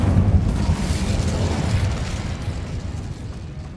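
Incendio fire spell cast in Hogwarts Legacy, a loud roaring burst of flame with a heavy low rumble that slowly fades over a few seconds, with no voices.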